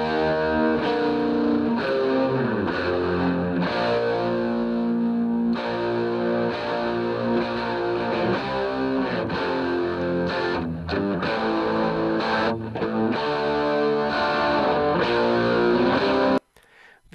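An electric guitar plays an arpeggio, with distortion kicking in to give a thick, sustained, saturated tone. The chords ring continuously for about sixteen seconds before stopping abruptly, with no voices over them.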